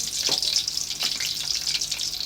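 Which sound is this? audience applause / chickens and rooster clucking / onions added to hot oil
onions added to hot oil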